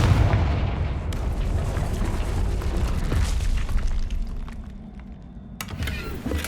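A Confringo blasting spell explodes in Hogwarts Legacy, a heavy booming roar with rumbling debris that rolls on for several seconds before a few sharper cracks near the end.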